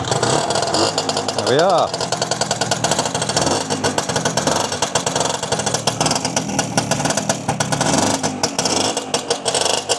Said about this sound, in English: I'll give it a kick and hopefully she'll fire up.